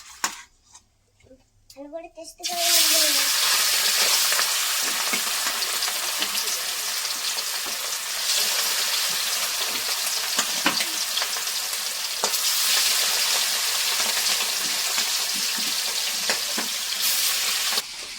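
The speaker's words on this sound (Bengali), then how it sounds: "এবার মাংস দিয়ে দিচ্ছি তেল গরম হয়ে গেছে" Meat frying in hot oil for a home-style biryani, a loud, continuous close sizzle that bursts in after a brief quiet start and keeps going with stirring scrapes, while people talk over it.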